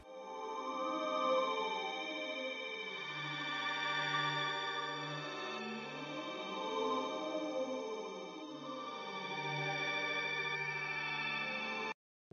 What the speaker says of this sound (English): so I went and found this pad from Mellotron, and it sounds like this, same chords and everything.